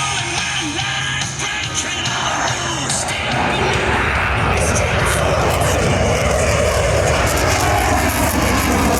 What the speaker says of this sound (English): the Navy's Super Hornet from VFA 122, the Eagles of Naval Air Station Lemoore in California